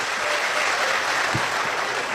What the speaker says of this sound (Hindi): एक बार इकट्ठे बजाओ सारे ताली, जोरदार